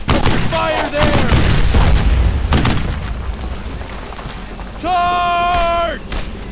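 Rifle fire from a WWII squad in the Brothers in Arms: Earned in Blood shooter around Château Colombières, with loud booming shots and bursts in the first seconds, then shouting voices over a battle din.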